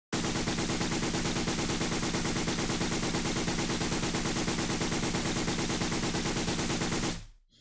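Gunfire in the PC-88 game Target Wave, a loud, dense, unbroken rapid burst of automatic shots that runs for about seven seconds and then cuts off abruptly, with no talking.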